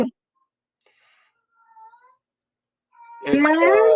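A cat meows loudly and close, one drawn-out call near the end following a few faint, thin mews, with a brief bit of human voice at the start.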